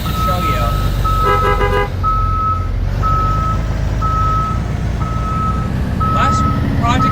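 A Blue Bird GMC CV200 school bus in the Rigs of Rods driving game rumbles steadily at idle while a reversing alarm beeps in a regular rhythm, with a brief spoken word over the engine.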